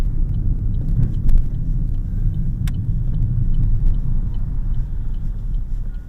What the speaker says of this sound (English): we're just going to pull in on the left here